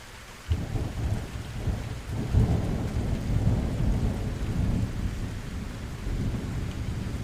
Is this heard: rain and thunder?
yes